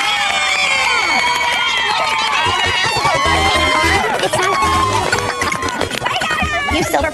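At a youth cheer competition awards, the crowd roars with loud continuous cheering, screams and applause, an announcer's voice mixed in over the dense noise.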